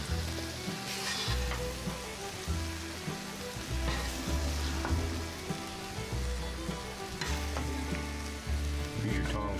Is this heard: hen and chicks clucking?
no